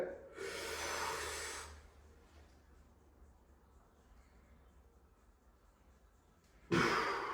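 Deep breaths during a physiotherapy session with a bodybuilder: a strong, close inhale-exhale rush lasting over a second, then a quiet stretch, with another sharp breath starting at the end.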